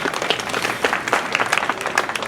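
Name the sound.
audience applauding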